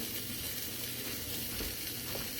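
A grilled three-cheese sandwich sizzles steadily in a pan, a constant bright crackle with no break.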